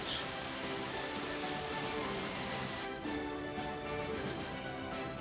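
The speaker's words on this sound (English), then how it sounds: "Now it's raining." Steady rain pours down in the video game Indivisible, a continuous wash of hiss and patter, even and fairly loud throughout, with faint musical tones underneath and no talking.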